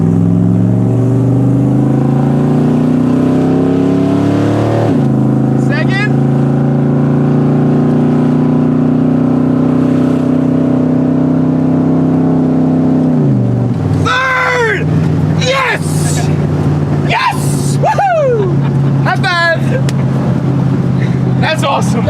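A car with a shift kit in its transmission hums loud and close as it accelerates in first gear, its engine tone rising in steps before a firm shift, with voices talking over the drone.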